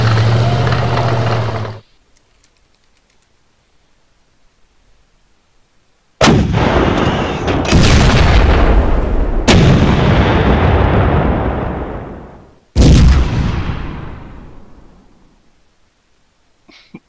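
Heavy 88 mm guns boom in a Panzer Battles North Africa 1941 wargame, loud blasts separated by a silent pause, each followed by long rumbling decay, with no talking.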